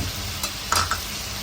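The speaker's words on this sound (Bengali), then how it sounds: "মশলা কষানোর পরে আমি চিংড়ি মাছটা দিয়েছি।" Prawns sizzle in spiced oil in a pan while being stirred, a steady close hiss broken by a couple of brief scraping strokes of the spoon against the pan.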